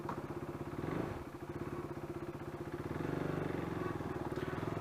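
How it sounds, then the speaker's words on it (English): A Bajaj Dominar 400 motorcycle engine, previously flooded in rain, idling close by with a steady, rumbling putter that revs up slightly partway through. "let me crank up the motorcycle"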